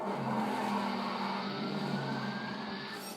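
A Bugatti Veyron launches hard off the line, its engine a steady, moderately distant roar with a slowly rising tone, and no voices present.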